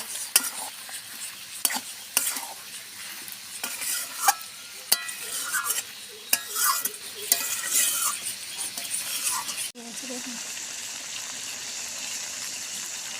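Egg and pointed gourd curry with yogurt cooks in a pan with added water: a run of clattering spoon stirs and sizzling gives way to a steady, even bubbling simmer at close range.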